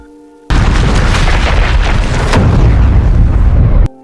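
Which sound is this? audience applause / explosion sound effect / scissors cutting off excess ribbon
explosion sound effect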